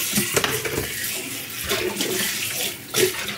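Water draining off freshly boiled and rinsed cauliflower in a kitchen, a steady close splashing trickle with no talk.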